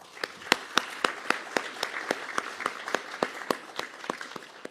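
Applause at a formal ceremony inaugurating the new board of a pharmaceutical sciences academy: a steady crowd clapping with sharp individual claps standing out, sustained and moderately loud throughout, no talk.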